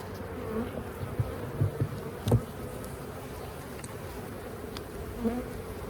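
Honeybees buzz steadily around an open Layens hive during an inspection, a soft continuous drone with a few brief louder passes of bees flying close by.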